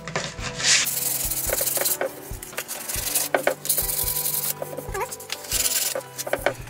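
Sandpaper of 240 grit rubs over a painted sideboard cabinet, a close, continuous scratchy scrubbing with uneven strokes and occasional sharper knocks and clicks across the surface.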